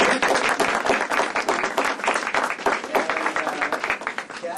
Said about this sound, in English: So let's have a round of applause for Eversource.